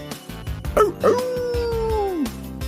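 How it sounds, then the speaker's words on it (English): A dog in a Mug Root Beer commercial barks a few times, then lets out a long, rising and falling howl that trails off, with background music underneath. "The sound of the dog."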